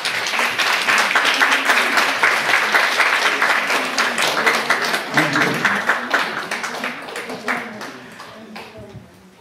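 An audience at a lecture in Sapporo claps together in sustained applause that gradually thins out and fades over several seconds, with crowd noise mixed in.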